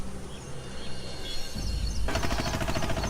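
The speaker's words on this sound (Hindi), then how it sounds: "उसने ऑटो वापसी की ओर मोड़ दिया, पर तभी एक तेज आवाज आई, पटाखे जैसी।" In an animated story, an auto-rickshaw tyre bursts with a loud, sharp bang like a firecracker, which cuts into a quieter scene and is followed by a rattling, crackling burst of noise.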